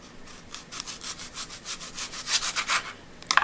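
A kitchen knife is drawn through an onion to cut it in half in a home kitchen, making about a dozen quick, rhythmic rasping strokes up close, ending in a sharper crunch as the blade finishes.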